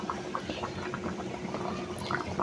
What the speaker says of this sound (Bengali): এখন কিছুক্ষণ জাল দিয়ে ঝোলটা কমিয়ে আর মাছের সাথে যেন ঝোলটা ভিতরে যায় তেল মশলা থেকে ওই সময় পর্যন্ত রান্না করবো